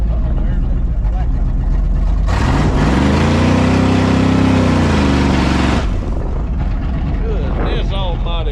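A 1968 Ford F100 truck engine roars up into a loud, sustained rev for a few seconds while the tires spin, then drops back to idle, with people talking and shouting around it.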